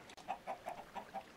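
Chicken clucking in the video game Minecraft, a quiet run of about six short, evenly spaced clucks with no talking.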